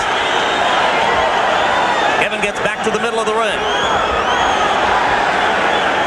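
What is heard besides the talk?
boxing crowd rising and cheering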